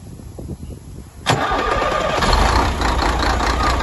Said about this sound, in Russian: Скания 4 серии, двигатель ЭЦ-1201,